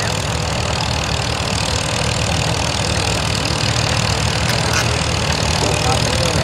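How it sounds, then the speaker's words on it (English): A very small tractor engine idles and runs steadily at a farm field day tractor pull, a constant mid-low hum holding throughout with crowd noise in the background. "This one's very teeny engine and it sounds really quiet."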